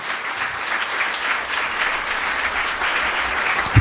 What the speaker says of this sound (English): applause helps me and helps all of these folks too